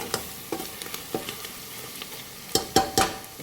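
Village-style chicken masala frying in a pan, a low steady sizzle broken by spoon scrapes and stirring knocks, with a cluster of louder clatters near the end.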